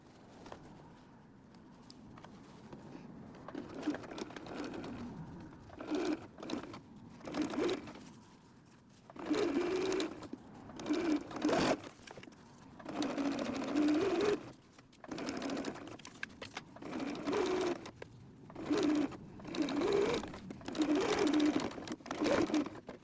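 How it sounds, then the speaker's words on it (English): A sewing machine top-stitches ribbons into the top seam of a windsock in bursts of rapid whirring stitching separated by short pauses, with faint bird cooing in the background. "when we top stitch around the top, I'm actually gonna sew those ribbons up at the top"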